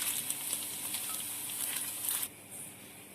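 Chicken frying in oil in a pan gives a bright, dense sizzle with crackling pops. It runs steadily, then drops sharply to a softer hiss near the end.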